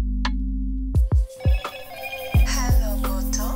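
Motorola phone's startup jingle plays during a power-on at a repair job, a short run of bright chiming electronic tones with sharp low thumps between them, close and clear with no talk over it.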